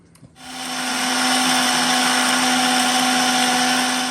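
An electric kitchen mixer grinds dry ginger, cumin, cardamom and sugar for Kerala rice payasam. After a brief click it spins up to a loud, steady whirring drone that holds without letup.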